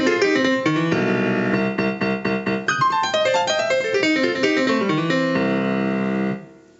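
Gospel-style piano lick, rapid cascading runs and rolled chords descending across the keyboard before settling on a sustained chord that fades out, close and solo.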